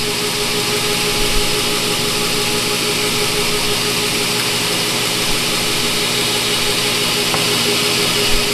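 A knife grinder motor spinning a larger wheel, set between 30 and 40 on a NEMA 12 controller, giving a loud continuous whirring drone with a steady hum and no talking.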